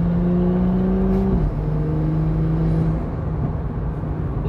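A used BMW accelerates hard, its engine revving with a steady droning tone that steps down in pitch at a gear change and then holds, loud and close inside the cabin.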